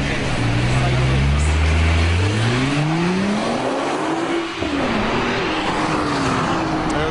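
A Nissan GT-R accelerates hard, its engine note climbing steadily through the gears with a brief dip at a shift, loud and close over wind rush, with a voice talking in places.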